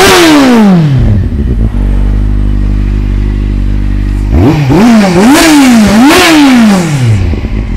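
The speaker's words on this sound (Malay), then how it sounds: "jom kita start tengok ini Kawasaki Z750 bunyi dia macam mana" A 2012 Kawasaki Z750 inline-four motorcycle cranks and fires up close by, settles into a loud steady idle, then gets three or four sharp throttle blips that rise and fall before dropping back.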